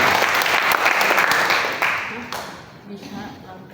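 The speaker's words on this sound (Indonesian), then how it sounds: "Kita berikan tepuk tangan buat Tuhan." Church congregation applauding during a morning worship service, dense clapping that swells then gradually thins out and fades, with voices mixed in underneath.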